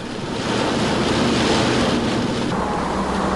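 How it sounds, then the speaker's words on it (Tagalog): Typhoon wind and heavy rain pound the Isabela coast before dawn, a dense, loud roar of gusting wind and rushing rain that swells after the first half-second and stays steady with no voices. "Malakas na ulan na sinabayan pa ng hampas ng hangin ang sumalubong sa aming pagdating sa lalawigan ng"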